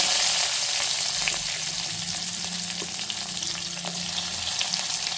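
Onions and green chillies with curry leaves sizzle in hot oil in a pan. A loud, steady hiss continues throughout, with faint scraping from stirring and no talk.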